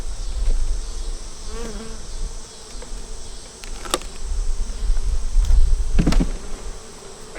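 Honey bees buzz loudly and close around an open hive during a frame removal, a dense continuous drone with individual bees whizzing past the ear.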